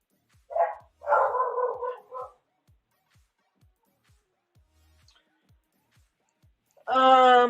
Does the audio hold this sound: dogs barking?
yes